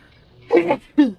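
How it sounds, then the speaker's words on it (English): A person sneezes up close, two short voiced bursts with a brief gap between them, over a quiet background. "I have to sneeze"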